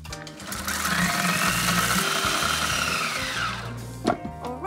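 A kitchen blender blitzes dates and espresso into a paste, a loud steady whirring motor that shifts pitch as the mix thickens, then cuts off with a few clunks near the end.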